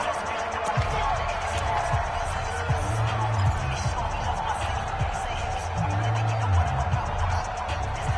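A stadium crowd at a Browns versus Steelers football game roars in a steady, dense wash of cheering ahead of a big third down, with bouncing thumps and a commentator talking over it.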